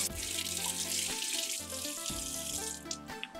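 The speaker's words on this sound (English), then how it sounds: "So just put it under hot water for several seconds." Hot tap water runs steadily over a popsicle mold at a kitchen sink, a close, continuous splashing stream with shifting pitch as the mold moves beneath it, and no voices.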